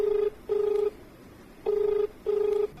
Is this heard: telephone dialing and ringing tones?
yes